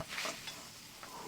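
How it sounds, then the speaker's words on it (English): Food frying in a pan over a campfire-style cook, likely fish with crumbs and potatoes, giving a faint, steady hiss with a few brief brighter bursts and no talk. "I see it sizzling away."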